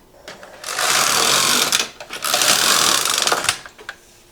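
A knitting machine carriage is run across rows of a scarf hoodie, making two loud, close mechanical whirring sweeps with clicks between and at the ends, with no talk over it.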